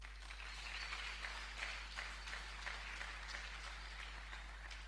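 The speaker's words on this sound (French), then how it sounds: "Est-ce qu'on peut applaudir au Seigneur?" A church congregation claps together in a steady, distant-sounding burst, faint overall and backed by a constant low electrical hum.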